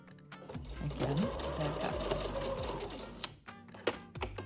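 A sewing machine stitches quilt fabric for a table runner, running in a fast steady whir of rapid needle strokes up close, then pausing with a few clicks and thumps.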